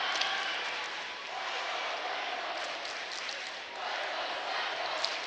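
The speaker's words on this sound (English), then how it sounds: "you hear the Central fans cheering the team on, trying to get a spark going" Central fans cheer at a boys' high school hockey game, Manchester Central against Londonderry, a steady wash of distant crowd noise and shouting that swells and dips, with an announcer talking over it.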